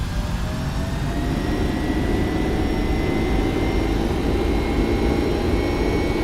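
A simulated aircraft engine runs at takeoff power in a flight simulator game, a loud, steady roar with a constant whine and no change in pitch throughout, heard alone.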